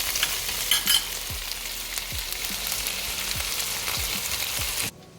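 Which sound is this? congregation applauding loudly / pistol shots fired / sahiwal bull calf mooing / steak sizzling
steak sizzling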